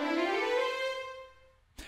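Sibelius notation software playing back a sampled violin with a long release setting: one sustained bowed note that swells, then fades slowly away, followed by a short soft thump.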